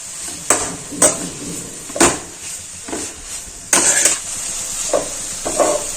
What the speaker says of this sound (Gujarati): ઘીમાં આપણે બધા ગાજર છે તેને પ્રોપર રીતે સાતળી લેવાના છે